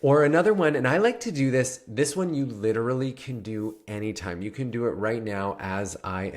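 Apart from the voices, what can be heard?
No everyday noise stands out behind the speech.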